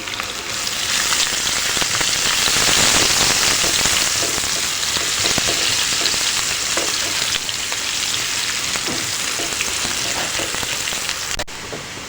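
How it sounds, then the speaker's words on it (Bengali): Chopped onion frying lightly in oil with black cumin for a sarpunti fish curry, a loud dense crackling sizzle like heavy rain, steady throughout and close, with no one talking. "কুচানো পেঁয়াজটাকে একটু হালকা ভেজে নিচ্ছি"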